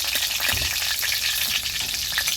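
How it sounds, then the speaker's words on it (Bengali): Chopped garlic sizzles lightly in hot oil in a pan while cooking a home-style dish, a steady bright crackle with occasional stirring and no talking. "রসুনটা হালকা একটু ভাইজা নিতেছি"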